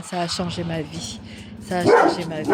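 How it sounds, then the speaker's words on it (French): A dog barks in a garden, several quick yaps behind someone talking, followed by a louder burst toward the end. "Là, c'est le chien."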